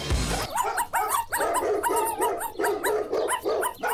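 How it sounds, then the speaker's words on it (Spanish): Dogs barking in a house: rapid, repeated close barks and sharp yips in an agitated, overlapping run, loud and steady throughout with no talk. "Todos esos ladridos me están matando."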